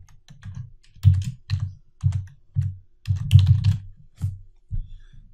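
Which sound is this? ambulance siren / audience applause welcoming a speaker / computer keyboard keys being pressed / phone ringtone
computer keyboard keys being pressed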